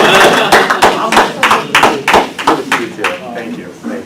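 Applause from an audience at a school board of education meeting, a dense burst of many hands clapping close and loud that thins out over a few seconds.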